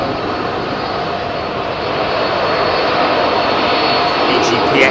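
Malaysian airliner departing runway 27R at London Heathrow, a heavy jet's loud, steady engine roar swelling slightly as it builds, with a voice speaking over it.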